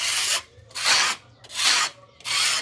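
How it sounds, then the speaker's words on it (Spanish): Hand rasp worked over a wooden board to level it, four long broadband scraping strokes in an even back-and-forth rhythm, close and fairly loud with short pauses between them. "solo le vamos a pegar una raspadita ahí"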